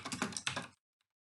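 A computer keyboard clatters in a quick burst of keystrokes as data goes into an Excel user form. The typing is close and crisp, then stops abruptly into silence.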